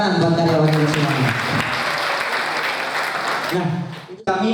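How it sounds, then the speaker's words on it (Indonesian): An audience applauds for the employees, a dense sustained wash of clapping that swells and fades over a few seconds, with a speaker's amplified voice before and after. "Tepuk tangan buat karyawan ini semuanya."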